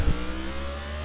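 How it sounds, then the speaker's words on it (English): A race car's engine in NASCAR The Game 2013 holds a steady, loud droning note, with a brief thump at the very start. "Just listen to that engine sound though."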